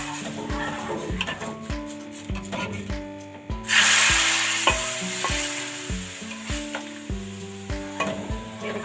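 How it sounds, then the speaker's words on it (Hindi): Cumin tempering poured into hot dal for Kashmiri daal chawal bursts into a loud sizzle, which fades into a steady frying hiss. Rhythmic clattering stirring strokes against the pot run throughout. "गरम दाल के अंदर हमने तड़का डालना है।"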